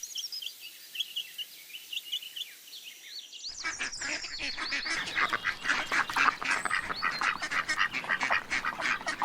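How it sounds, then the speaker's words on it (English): A duck quacking among farm animal sounds, a dense run of loud, rapid, overlapping honking calls that builds after a quieter stretch of thinner, higher bird notes at the start. "duck,"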